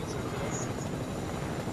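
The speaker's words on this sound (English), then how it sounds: "This is how you fly a helicopter" Steady helicopter rotor and engine drone from a Fortnite video game, continuous and fairly loud, with faint voices mixed in underneath.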